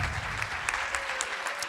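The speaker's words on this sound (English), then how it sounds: "Can we get a round of applause for everybody who's been here?" An audience claps together in a steady round of applause, dense and continuous with a few sharper claps standing out near the microphone.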